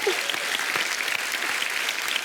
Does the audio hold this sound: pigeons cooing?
no